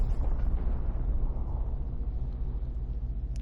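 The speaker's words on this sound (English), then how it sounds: "What the hell was that explosion?" An explosion in the Super Daryl Deluxe video game, a heavy low rumble that booms at the start and slowly fades as a continuous roar.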